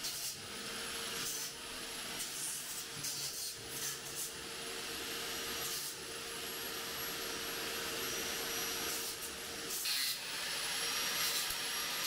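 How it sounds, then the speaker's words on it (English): A power grinder whirs with a steady, harsh rasp as it grinds off nails from exposed wall studs during a strip-to-the-studs renovation, continuous and close with small dips in pitch as it bites. "now I have to go back and grind off all the hundreds of little nails that were holding it up"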